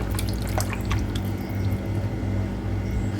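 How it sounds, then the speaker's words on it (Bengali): Raw chicken rinsed with clean water in a kitchen while preparing tandoori kebab, a steady splashing and dripping wash with a low hum underneath, close and continuous, no voices. "এই দেখো পরিষ্কার জল দিয়ে এবার একটু ধুয়ে ঠান্ডা হতে দেবো এটাকে"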